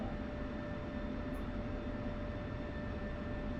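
Jet aircraft taxiing on the ground in the DCS flight simulator on a South Atlantic map, a steady broadband engine rumble with faint constant whine tones, continuous and unchanging throughout.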